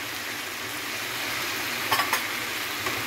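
Ground pork and vegetables with oyster sauce, chili and spring onion sizzle steadily in a pan, with a few brief scraping stirs near the end and no talk.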